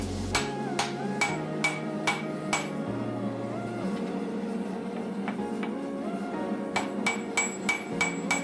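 Damascus steel being forged with a hand hammer for a skinner knife rings out in clear, regular metallic strikes, a quick run of blows, a pause, then another burst near the end over a steady workshop hum.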